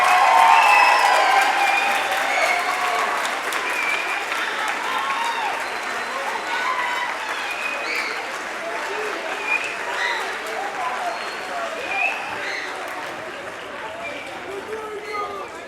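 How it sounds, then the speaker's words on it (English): Sustained audience applause fills a school spring concert hall, a dense, steady wash of clapping from a crowd that stays loud throughout and tapers only slightly toward the end. "give one collective great big round of applause for these students and their accomplishments"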